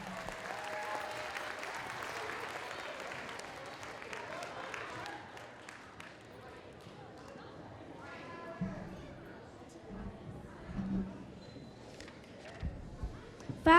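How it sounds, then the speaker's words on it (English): Audience applause at an elementary school Black History program honoring sorority members, a fairly soft, steady wash of clapping that thins out after several seconds, followed by quieter room noise and scattered bumps. "Join me by giving them an applause."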